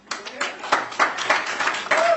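Audience applause at a Fanita Ranch safety workshop, a short burst of clapping hands spread through the room, fairly loud and mixed with voices.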